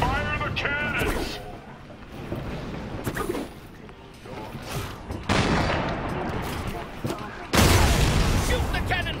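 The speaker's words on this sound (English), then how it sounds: "Fire the cannons!" Cannon fire during a siege battle in the video game Sunset Overdrive, a chaotic run of loud booming blasts and bursts in quick succession under shouted game dialogue and effects.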